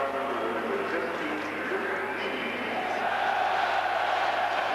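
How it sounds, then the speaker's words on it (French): A stadium crowd at a Belgium versus Germany Euro 1992 qualifying football match applauds and roars steadily as a substitute enters, a dense, sustained wash of noise with a commentator talking over it. "Nevis très applaudi"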